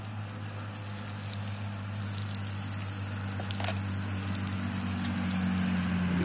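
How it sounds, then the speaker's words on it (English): Water trickles and patters onto potting soil in garden containers, a soft continuous splashing over a steady low mechanical hum, close by with no talking. "water each of these just to kind of get the soil moist"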